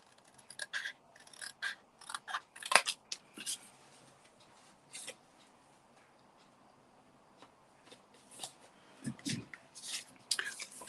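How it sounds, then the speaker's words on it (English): Scissors fussy cutting paper by hand, with soft snips and rustling paper in quiet, irregular bursts, close and faint, pausing in the middle and with a few quiet sounds from a person. "I'm moving the paper, not the scissors, to get a better line."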